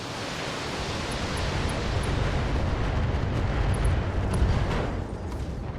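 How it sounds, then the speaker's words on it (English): A mech's stored ammunition cooks off in the BattleTech video game, producing a sustained, loud, broadband roar of blast and rumble that holds steady for several seconds with no talk over it. "ammo explosion was not enough to finish him off, though"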